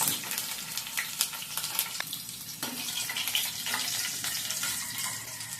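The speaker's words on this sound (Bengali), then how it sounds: "ফোড়নটাকে কিছুক্ষণ ভেজে নেওয়ার পর দিয়ে দিব রাঁধুনি গুঁড়ো" Whole spices for a tempering of cinnamon, dried and green chillies, green and black cardamom and cloves fry in hot oil, a busy crackling sizzle with sharp pops and occasional stirring scrapes; chickpea curry being cooked.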